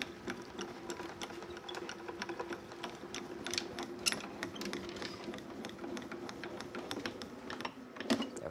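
A pink embossing plate and folder being cranked through a manual die-cutting and embossing machine, giving a steady mechanical grinding with rapid clicking ticks that runs continuously and fairly close for the whole stretch.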